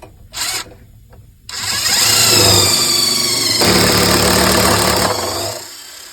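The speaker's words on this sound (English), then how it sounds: "You want to make sure to pre-drill so that we don't split or crack the mud sill" A power drill whines loudly and steadily for about four seconds, its pitch shifting as it pre-drills a wooden mud sill for a foundation plate, after a brief short burst at the start.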